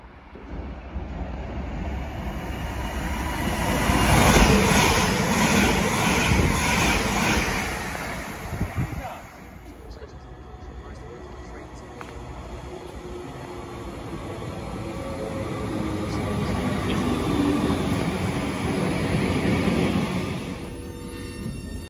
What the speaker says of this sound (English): Platform 2, the approaching train is not scheduled to stop at this station.